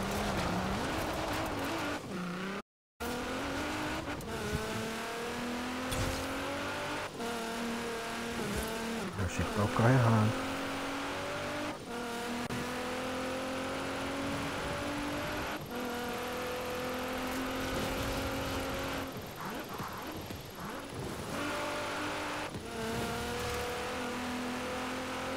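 Racing car in Forza Horizon 4 drifting through corners, a steady engine drone with tire squeal running under ongoing talk, loud and close throughout.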